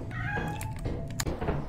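A cat meows repeatedly inside the Lethal Company video game, its drawn-out tonal cries rising over a steady game background hum, close and fairly loud.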